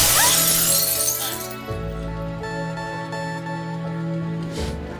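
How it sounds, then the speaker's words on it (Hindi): A car window's glass smashes loudly in a film sound effect, a sharp bright burst of shattering followed by tinkling shards, then fading under sustained background music. "पहली बार तेरी गाड़ी का कांच तोड़ा था।"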